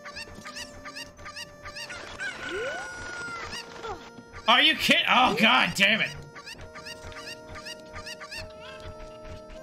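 Rapid chicken clucks and squawks from the video game Ocarina of Time repeat in quick bursts, swelling into a loud flurry midway, while a player talks, exclaims and laughs over them.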